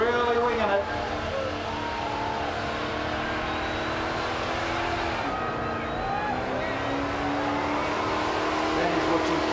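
High-revving car engine during a burnout at Summernats, screaming loud and close with the pitch climbing and dropping, crowd noise and a commentator's voice over it.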